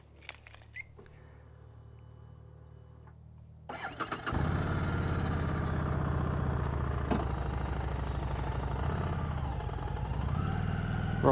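A Harley-Davidson Street 500 motorcycle on a road test starts up after a quiet idle-like hum, then its engine settles into a loud, steady, close rumble that carries on throughout with slight revving changes.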